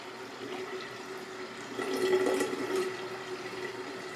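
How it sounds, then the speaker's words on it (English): Water streaming steadily from the drinking and waste spouts of an Aqua Ionizer Deluxe 7.0 water ionizer, a faint continuous splashing hiss that swells briefly midway, with no talk. "There's water coming out of the drinking water spout, and there's water coming out of the other spout here."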